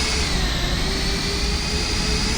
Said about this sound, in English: But yep, Delta is taxiing over here.